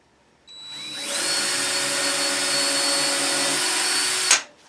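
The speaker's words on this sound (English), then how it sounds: "Time to get a real drill bit." A power drill spins up and runs steadily with a drill bit for about four seconds, giving a loud, close, even whine before stopping abruptly, with no talking.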